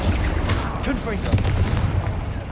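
Confringo fire spell blasts in Hogwarts Legacy, a steady rumbling barrage of booming impacts with a voice calling out over the loud, dense combat noise.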